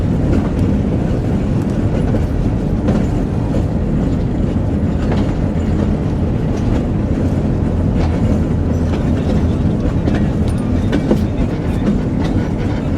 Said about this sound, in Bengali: আমি এই মুহূর্তে রয়েছি 65 সিরিজের লোকোমোটিভে বেতনা এক্সপ্রেস ট্রেনে